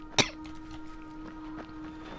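A single short, sharp cough sounds close by, then fades into a quiet room with a steady low electronic hum.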